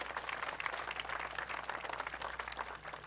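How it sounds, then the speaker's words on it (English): Audience at a city State of the City address claps for the city council, a dense, faint, even patter of many hands continuing throughout without talk. "So let's give them one more round of applause to our city council,"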